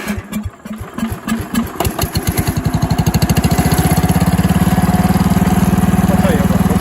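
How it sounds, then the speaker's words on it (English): A 1970 Power King tractor engine sputters with uneven pulses, then settles into a fast, steady, loud chugging rhythm as it builds up to pull a log, heard up close. "so I'll be on the tractor yanking"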